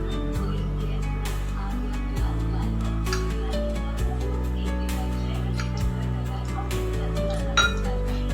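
Cooking oil being poured into a heated appe pan with metal utensils clinking, a steady background hum throughout and several sharp clinks scattered across the scene, no voice over it.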